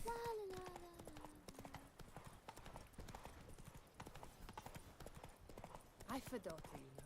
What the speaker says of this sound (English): Come on, Roach. You can do it. You can beat the fence.